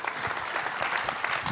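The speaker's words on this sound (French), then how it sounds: "Vous pouvez aussi l'applaudir." Audience at a lecture applauds a speaker, steady continuous clapping from a room full of people with no voices over it.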